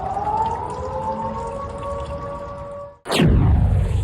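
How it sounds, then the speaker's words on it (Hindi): Air raid sirens wail over Tehran after an Israeli strike, a steady sustained tone that cuts off abruptly and gives way to a loud new sweeping, descending siren sound. "इजराइल के हमले के बाद तेहरान में दहशत के सायरन बजने लगे"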